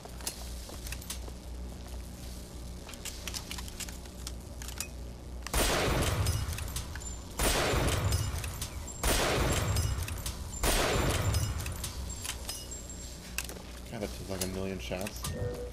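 Gunshots in the first-person shooter BioShock Infinite, several loud separate bursts of fire spaced a second or two apart over a low mechanical game background.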